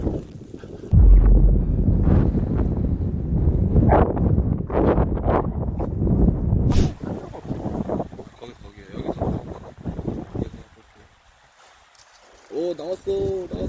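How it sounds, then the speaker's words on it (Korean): Strong wind buffets the microphone at a reservoir during bass fishing in rain, a steady loud rumbling roar under people talking throughout, easing briefly near the end. "이렇게 바람 부는데?"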